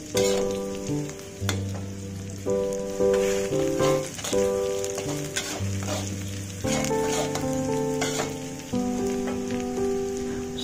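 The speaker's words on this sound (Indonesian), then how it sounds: "aku mau tumis irisan bawang putih dan bawang merah" Sliced garlic and shallots stir-fry in a pan, a steady bright sizzle with crackles, interrupted by scraping stirs, all heard under light background music with no talking.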